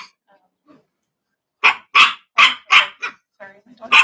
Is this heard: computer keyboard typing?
no